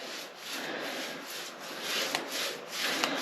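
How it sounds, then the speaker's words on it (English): A paintbrush spreading Frenchic paint over a radiator: a soft, continuous brushing swish with gentle repeated strokes, close and fairly quiet, and no one speaking. "Now when you are painting a radiator, work in the same direction."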